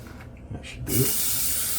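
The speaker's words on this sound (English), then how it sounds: "Rinse out the tub." Water runs steadily into and rinses out a shaving soap tub in a home bathroom, a broad continuous hiss of spray that starts abruptly partway through and carries on to the end, fairly close and alone.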